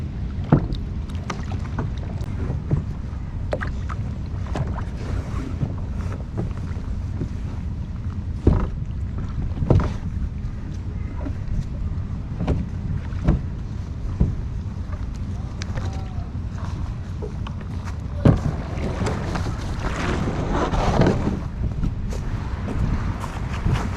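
Kayak paddling along a city canal in Birmingham, with regular splashing paddle strokes and drips against steady wind noise on the microphone, close and continuous.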